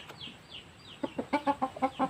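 Chickens cluck in a rhythmic series of short, fairly close calls, soft at first and then louder and regular in the second half.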